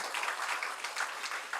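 A church congregation claps together in brief, steady applause at a Sunday service, the sound somewhat distant and diffuse across the room.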